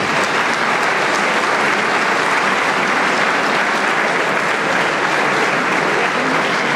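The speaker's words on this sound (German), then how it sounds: "Bitte heißen Sie sie hier willkommen mit einem ganz kräftigen Applaus." An audience at an IFBB Austria bodybuilding competition claps loudly and steadily, a dense wall of applause from a large crowd that holds at full strength without letting up.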